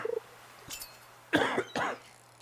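Two close, hoarse coughs from one person in a quiet room, separated by a brief pause, with a faint click and low hum around them.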